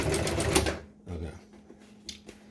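A sewing machine backstitches a seat cover for a 1966 GMC seat bottom, giving a brief rapid burst of mechanical stitching, then quiet with a few light clicks and taps.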